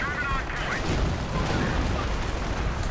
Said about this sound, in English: And artillery going in.